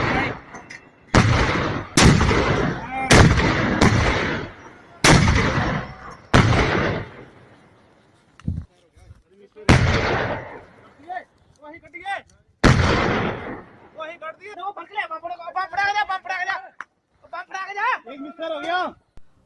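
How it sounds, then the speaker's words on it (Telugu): Gunfire along the Line of Control in Kashmir, with Pakistani army firing and Indian security forces returning fire: a series of loud, booming shots with echoing tails, spaced a second or two apart, then scattered cracks while people talk. "కొన్ని చోట్ల కాల్పులు జరపడంతో భారత భద్రతా బలగాలు ప్రతిదాడులు చేస్తున్నాయి."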